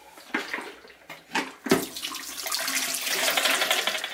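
Water runs from a tap for film washing during home film development, a steady broadband rush that swells after a few splashy bursts and holds on close and alone.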